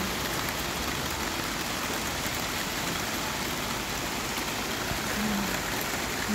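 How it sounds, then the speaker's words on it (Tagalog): Heavy rain pours down in a steady, dense hiss of drops hitting surfaces, loud and unbroken throughout, with faint low rumble beneath and no voices. "Ang lakas ng ulan, oh."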